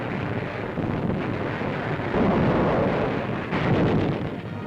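Battle of Tarawa in 1943: a continuous roar of rumbling artillery fire and distant blasts, dense and steady, swelling louder around the middle and near the end of the stretch.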